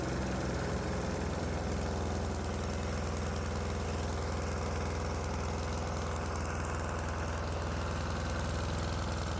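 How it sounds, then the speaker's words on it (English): A diesel engine running on vegetable oil idles steadily and loudly, a constant rumbling drone with a fine rhythmic knock throughout, heard close with no break. "The good news is the engine runs fine"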